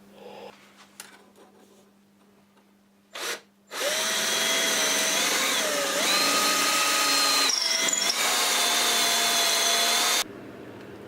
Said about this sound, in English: to drill the hole between the pickup cavity and the control cavity